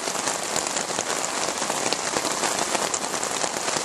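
Heavy rain pours down on a campsite tent in an unbroken, dense, loud hiss with no other sounds.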